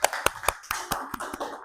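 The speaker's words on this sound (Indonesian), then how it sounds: "Tepuk tangan sekali lagi." A group of children in a classroom claps in about nine sharp, fairly evenly spaced beats, close and crisp, with no talking.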